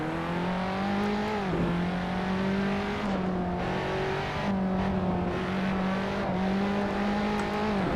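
A race car in Assetto Corsa accelerates with on-throttle oversteer, its engine droning loud and steady as the pitch climbs and dips through gear changes, with a brief tire squeal under the continuous motor roar.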